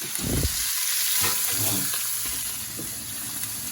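Pot roast meat browns in a couple of teaspoons of oil in a cast iron skillet. A loud, continuous sizzle holds steady close by with faint stirring movements and no clear talking.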